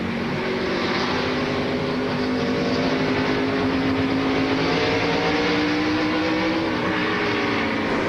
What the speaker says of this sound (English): 2 fast cars fighting for the same acre of racetrack.